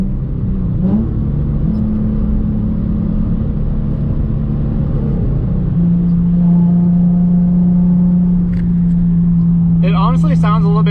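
Nissan 350Z fitted with a new aftermarket exhaust, heard from inside while driving: a loud, steady droning engine note that dips and holds at a lower pitch, with a brief voice near the end.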